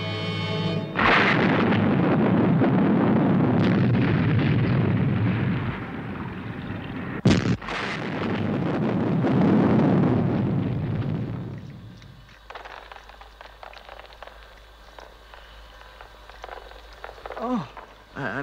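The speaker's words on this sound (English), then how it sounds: "Say, the cannon's exploded." A loud, sustained roaring blast of a cannon exploding with a sharp crack midway, then the rumble fades into quieter background noise and faint voices.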